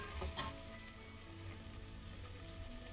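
Prawn heads and shells toasting in olive oil in a pot, a steady close sizzle and crackle with a brief scrape of a spoon pressing them at the start.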